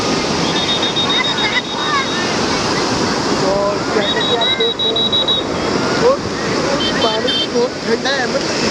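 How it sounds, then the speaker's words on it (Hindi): Waves washing steadily onto a large beach at Gokarna, a constant loud roar of surf with wind, mixed with scattered bird chirps and brief whistling tones. "तो ये वाला बीच बहुत ही बड़ा है"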